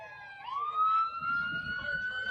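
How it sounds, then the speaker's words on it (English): Fire truck and ambulance sirens pass behind a gathering in Lubbock, a rising wail that settles into a steady high tone over low traffic rumble and background murmur, moderately distant. "We've got fire trucks and ambulances going behind us."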